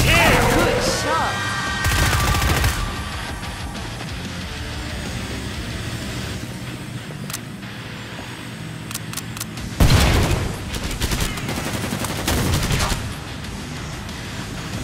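Gunfire in the video game Killing Floor 2, with rapid bursts and heavy booming shots over a dense, loud battle mix, including a big blast near the ten-second mark.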